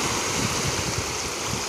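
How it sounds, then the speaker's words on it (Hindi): Sea waves rolling in at Mahim Beach, Mumbai, a continuous close surf roar with soft rhythmic surges and some wind buffeting, no voices. "देखो लहर कैसे आ रही है, देखे ये बीच के सामने लहर कैसे, यहाँ तक लहर आ रही"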